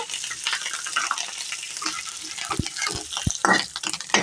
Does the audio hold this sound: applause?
no